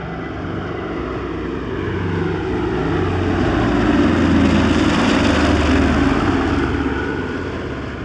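A Lockheed Super Constellation, a former US Air Force military transport in a Qantas-style civilian paint scheme, drones past at an airshow, its piston-driven propellers swelling to a loud peak midway and easing off, with no voices.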